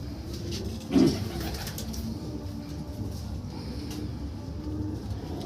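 Pigeons coo once in a short, close burst, then a steady murmur of birds and low background noise carries on with no one talking.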